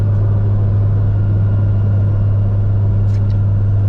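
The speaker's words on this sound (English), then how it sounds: "I can hear the car just sucking in air" A loud, steady engine drone hums inside a 600hp turbocharged Honda Civic during a pull, a constant low rumble with a faint airy intake hiss and no talking.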